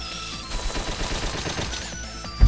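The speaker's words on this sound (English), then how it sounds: "And for this one, I'll just use Stardust Missile." Stardust Missile attack in a Touhou-themed Famicom video game: a dense, crackling barrage of rapid 8-bit bursts over a sustained synth tone, running steadily for about two seconds and ending in a sharp low thump.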